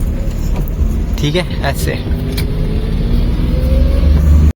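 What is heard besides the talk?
Maruti 800 car turning at a bend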